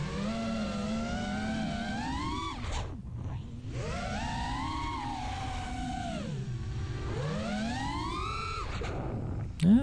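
Small FPV drone motors on a BoltRC Black Ops Karearea build with damaged props run up at full throttle, a loud continuous whine that rises and falls in pitch through several sustained surges, dropping briefly between runs.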